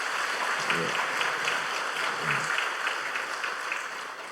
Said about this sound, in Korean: 우리 뜨거운 박수로 안녕합니다.